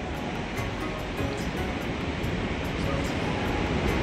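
Jahnavi river rushing far below a steep mountain slope, a steady broadband wash of flowing water that holds constant throughout, with no voices over it.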